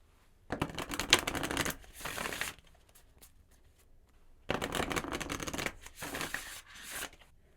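Oracle cards being shuffled by hand, two long bursts of rapid riffling and flicking separated by a quiet pause, close and crisp.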